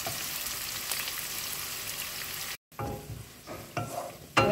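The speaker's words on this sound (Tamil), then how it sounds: "வெங்காயத்தை நல்லா இந்த மாதிரி வதக்கிக்குங்க." Onions sauté in a pan with a continuous sizzle, broken by a brief silence partway, then resuming with stirring scrapes and clatters toward the end.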